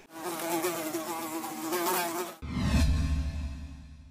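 Flies buzz steadily in a close, continuous drone, shifting in pitch as they circle, with a louder, lower buzz taking over partway through; no voices.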